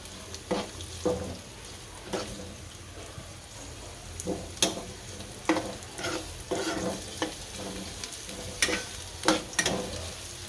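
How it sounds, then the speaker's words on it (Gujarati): Onions are dropped into a frying pan and stirred, soft sizzling running underneath a series of repeated scraping stirs and taps against the pan, fairly close but quiet. "હવે કાંદા નાખશું અને આને ફેરવી નાખશું"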